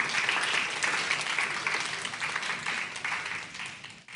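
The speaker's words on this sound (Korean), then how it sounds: "박수로 우리 잠시 모시도록 하겠습니다." A room full of people at a church camp workshop claps steadily, a dense patter of applause that gradually fades toward the end.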